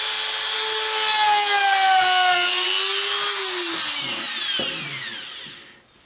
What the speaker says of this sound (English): you just grab the Dremel. I'll do a test hole first.